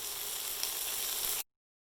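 Cannellini beans sauté in flavored oil, giving a steady, bright sizzle for about a second and a half before cutting abruptly to silence.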